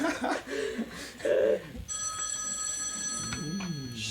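Telephone ringing as a sound effect in a tabletop role-playing game session, a steady electronic ring that begins partway through and sounds under people talking and laughing.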